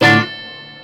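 A high-output Stratocaster with a scalloped neck, played through a reverb pedal: one loud strummed chord rings out, then fades into a long, smooth reverb tail that lingers alone.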